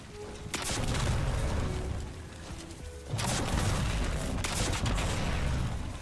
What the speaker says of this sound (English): Now let's shoot Carl and see how many rockets it takes.